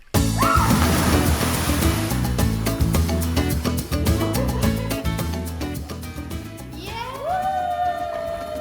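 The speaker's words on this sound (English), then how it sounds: "let me show you how to blow bubbles" Bubbles blown underwater in a cenote in Tulum: bubbly sloshing and gurgling, a busy burst that gradually thins out, with a few tonal whistles near the end.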